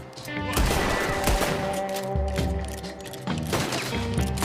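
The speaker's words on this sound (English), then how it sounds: "What are those guns they have?" Rapid gunfire in a Red Dead Redemption 2 shootout, with dense, sustained bursts of shots close by over a low rumbling game backdrop and a musical drone, with no talking.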